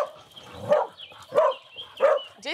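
Several rescued dogs at a home near Amiens, France, bark in three or four sharp, evenly spaced woofs, close and fairly loud, with softer whimpering sounds in between.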